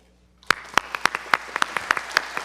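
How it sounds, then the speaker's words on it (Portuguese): Applause for Santos Dumont at a formal legislative honors session in São Paulo, starting abruptly after a brief silence as sharp, evenly spaced claps, a steady rhythmic beat of about four per second. "uma salva para Santos Dumont"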